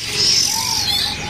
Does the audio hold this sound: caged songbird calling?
yes